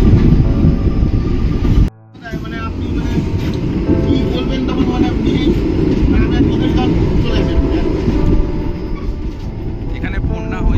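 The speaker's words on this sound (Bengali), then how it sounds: "আবার ট্রেন দেখো আমাদের এই কিন্তু মেল লাইনে আবার উঠে যাচ্ছে ক্রসিং থেকে" A passenger train on an Indian rail route moves off a crossing loop back onto the main line with a loud continuous rumble and rhythmic clatter of wheels on track, heard from on board, with a brief dropout early on.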